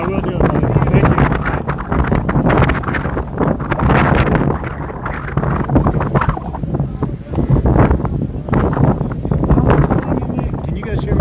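Strong outdoor wind buffets the microphone in Hawaii, a loud continuous roar with gusty swells, while a person talks underneath it.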